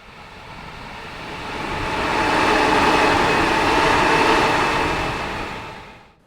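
Class 323 electric multiple unit in Train Sim World 3 on the Birmingham Cross City Line, a steady rolling rumble with a faint motor whine that swells and fades gently without anyone speaking.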